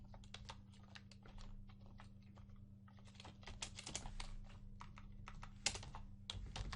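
Rapid typing of code on a computer keyboard, a steady stream of quick close key clicks with brief pauses and a louder keystroke near the end, with no talking.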